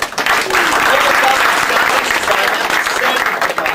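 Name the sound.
audience applause for semifinalists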